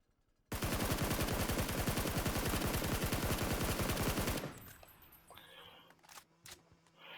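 A long burst of rapid automatic gunfire in PUBG, loud, close and evenly spaced for about four seconds, followed by a few quieter clicks and thuds.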